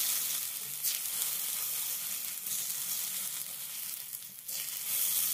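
Tomato and onion paste fries in hot mustard oil for a Bengali chingri posto, a steady close sizzle with occasional soft stirring scrapes and swells of crackle throughout.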